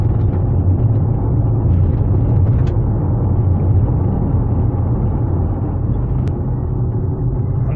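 Plug-in hybrid car towing a box trailer accelerates uphill at about 80% throttle, a loud, steady low rumble of road and drivetrain noise that holds evenly throughout with no talking.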